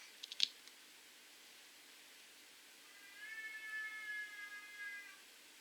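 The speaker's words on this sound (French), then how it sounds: "Ça c'est un chat de la rue qui pioune." A street cat meows softly in the distance, a few faint drawn-out calls after some brief clicks, over otherwise quiet background.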